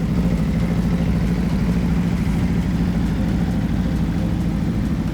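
A 2017 Aprilia RSV4 RF motorcycle engine running with a steady, deep, rumbling note that holds constant throughout, with no voices.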